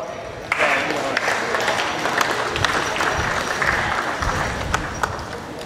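Audience clapping at a Jersey heifer show ring, a steady broad wash of applause from a crowd that starts abruptly and carries on throughout, with a few livestock or ring noises mixed in.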